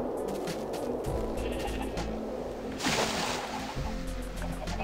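Sheep in the video game Minecraft bleat repeatedly, short nasal calls coming close and fairly loud over a faint watery slosh, with no talking.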